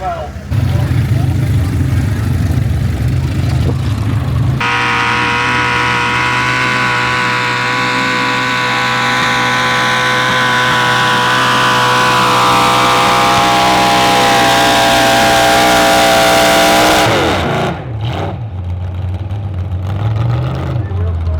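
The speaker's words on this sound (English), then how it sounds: "There's some big engines here, some big power, and a lot of wheel speed." Powerful tractor-pull tractor engines roar loudly and continuously, pitch climbing steadily as they rev hard with heavy wheel spin, then cutting off near the end with a fading rumble.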